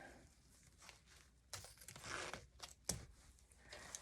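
Scissors snip and crinkle through synthetic deco mesh being cut for a wreath, a few close, dry rustling cuts and crunches with quiet pauses between them.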